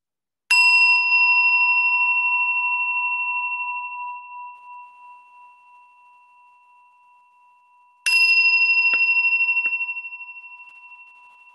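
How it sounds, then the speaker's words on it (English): A meditation bell is struck twice, each clear, pure tone ringing out alone and slowly fading over several seconds in a quiet room. "just let yourself kind of just resonate with the sound of the bell"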